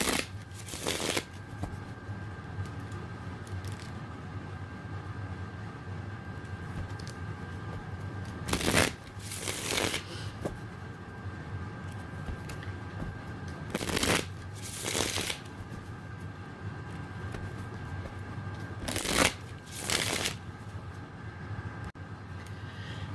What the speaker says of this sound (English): just as I am, shuffling the cards and stuff